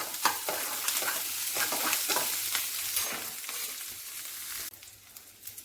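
Paneer in a white black-pepper gravy is stirred in a pan, with scraping strokes of a spoon over a soft, continuous sizzle, close and fairly quiet.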